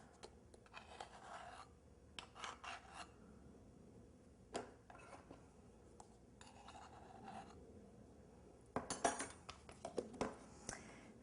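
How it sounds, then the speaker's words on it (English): Faint, scratchy rasping comes in short intermittent bursts as all-purpose flour, cornstarch and baking powder are sifted into wet ingredients for chocolate beignets, with a few light metallic clinks between them. "And we're going to sift this into the wet ingredients."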